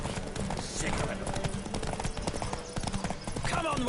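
A horse gallops in The Witcher 3 video game, its hooves beating in a fast, steady clip-clop throughout under busy game sound and shouting voices.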